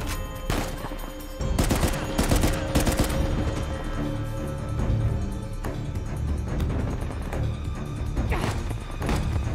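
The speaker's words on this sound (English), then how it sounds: "Hey, you're shooting at me, so I'm gonna shoot at you with this gun." Dense gunfire from the player and enemies in Uncharted: Legacy of Thieves Collection, rapid overlapping shots and bursts with a few sharp louder cracks, sustained close and loud throughout with no talking.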